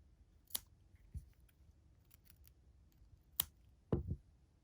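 Scissors snipping wool yarn for a flower, a few sharp isolated cuts and clicks in a quiet room, the last a quick double snip.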